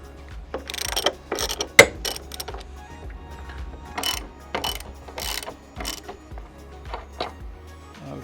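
Bolts being loosened on a camper van with a ratchet, bursts of rapid clicking pawl sounds repeating in short runs close by, with quiet pauses in between.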